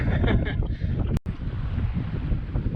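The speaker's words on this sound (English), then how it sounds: "we're still under sail and only 5 nautical miles away from our destination" A sailboat moving under sail, with loud rushing wind buffeting the microphone and water wash beneath, continuous apart from a brief dropout.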